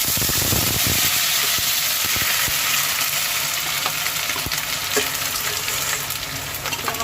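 Ground onion masala paste sizzles loudly in hot oil in a pan for a chicken salan gravy, a continuous, close frying hiss with faint crackles and occasional stirring scrapes.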